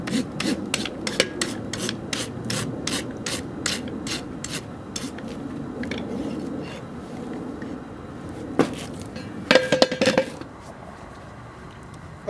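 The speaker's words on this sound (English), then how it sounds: "Of course, you can do it with a rasp also." A rasp files a healthy horse's hoof in steady, rapid rhythmic strokes, close and clear, then slows into a few scattered scrapes and faint knocks before going quiet.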